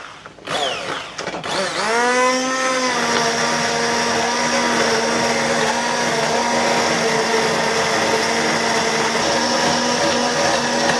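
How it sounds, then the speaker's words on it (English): Blender puréeing broth, potatoes and onions for caldo verde: a few short bursts, then the motor spins up to a loud, steady whine that runs on continuously without talk. "We're going to go ahead and blend this down"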